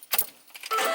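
Keys jangle briefly on a Meyer Hatchery keychain as the key turns in the ignition on a farm, a couple of quick metallic clinks up close followed by a rising mechanical whir.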